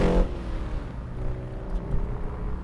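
Frontline MG B LE60 V8 restomod, a restomodded MGB with roughly 300 pound-foot of torque, accelerating hard. A loud, steady low engine drone holds close by throughout, with no voices.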